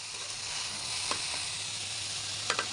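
Green chilies drop into papaya frying in a pan, a steady hiss and sizzle with a few small crackling pops toward the end, close and without talk.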